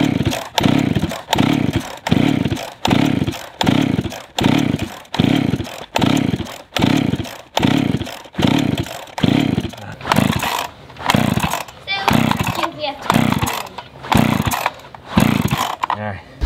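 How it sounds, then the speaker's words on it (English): A chainsaw engine runs loud and close in a steady, rhythmic pulsing surge, about one swell per second, continuing throughout with a rougher stretch near the end. "I hope I didn't ruin the chainsaw"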